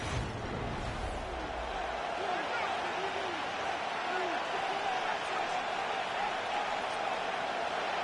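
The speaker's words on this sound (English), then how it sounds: "This crowd into it now as we get to 3rd down." A Madden 23 video game football stadium crowd produces a steady, dense roar of cheering that swells slightly and holds throughout, with a commentator talking over it.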